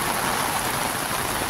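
Rain dripping and pattering steadily on a beachfront in Boracay during the habagat monsoon, an even, close hiss of falling water with no breaks.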